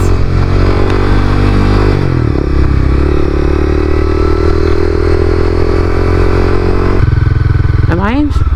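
A Honda CBR300 motorcycle engine runs steadily while ridden, droning loud and close throughout, with the pitch dropping and then rising again as it shifts gears and picks up speed.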